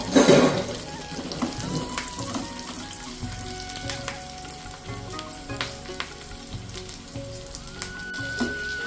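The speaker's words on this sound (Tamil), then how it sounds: "தேங்காய் எண்ணெய் எடுத்துகிட்டு சின்ன வெங்காயம் ரவுண்டாக கட் பண்ணி வச்சுருக்கேன், கொஞ்சம் கருவேப்பிலை போட்டு தாளிச்சிக்கலாம்" Sliced shallots and curry leaves sizzle in hot coconut oil for a tempering, opening with a loud burst of frying that settles into a steady crackle, with stirring taps against the pan.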